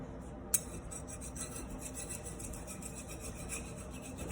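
A utensil scrapes almond and coconut flour dough off a work surface in steady, close rasping strokes, with a short sharp click near the start and no talking.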